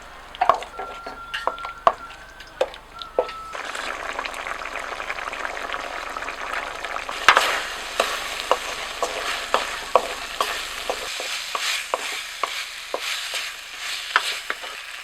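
Peeled raw banana pieces sauté in a pan with a low, continuous sizzle. Frequent light taps and scrapes come from a spatula stirring against the pan. The sound is fairly quiet and close, with no talking.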